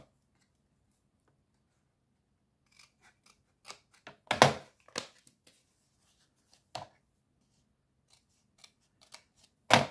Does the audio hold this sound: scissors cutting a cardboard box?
yes